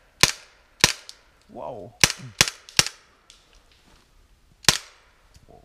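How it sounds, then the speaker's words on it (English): An air gun fires several sharp, loud, close shots in a forest, five quick cracks spaced irregularly over a few seconds and a final one after a pause. Someone briefly speaks between the shots. "we'll use this air gun to put some noise here, and let's fire."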